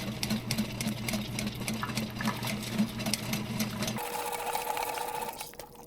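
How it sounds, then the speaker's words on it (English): A power drain auger clearing a sewer line gives a steady mechanical whirring with a low droning buzz, then a brief shift to a higher, thinner whine before it cuts off. "you can hear the snake loading up with tension, then releasing it by spinning the auger bit"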